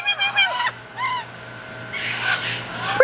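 An African grey parrot imitates a rooster's crow in a few short, bright honking calls with pauses between them, close and clear against a faint steady hum.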